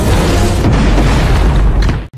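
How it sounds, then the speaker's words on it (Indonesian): A loud, sustained boom of black powder exploding after catching fire from a campfire in a fantasy film about a general fighting Taotie monsters, filling the whole stretch with dense rumbling blast noise before cutting off abruptly. "satu bubuk hitam yang Balak curi tidak sengaja tersentuh api unggun yang mengakibatkan Balak dan kelompok bandit hitam mati terbunuh dalam ledakan."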